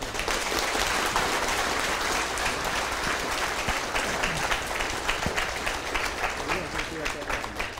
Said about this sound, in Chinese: 我们再一次的掌声